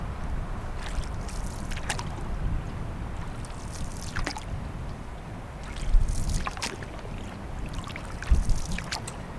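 Water flows at a lake inlet in the Boundary Waters wilderness, a soft, continuous trickling murmur with occasional splashier gurgles, heard alone and fairly quiet.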